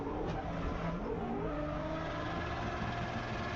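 A car in a racing video game drones along with its engine bogging, a low, steady, strained rumble with faint tire noise early on and no speech over it.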